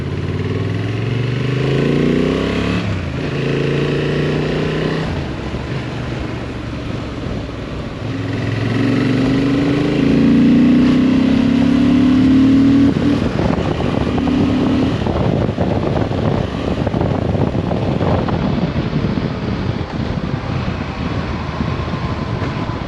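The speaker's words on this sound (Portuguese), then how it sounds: "Moto muito suave, progressiva." A Honda Transalp 750 twin-cylinder trail motorcycle engine revs and pulls steadily while riding, loud and close, rising and falling through gear changes with wind rush underneath.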